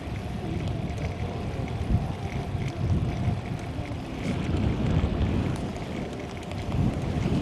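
Steady roaring wind buffeting the microphone while cycling into a headwind on a road ride from Rotterdam toward Belgium; loud, continuous low rumble with gusty swells and no voices.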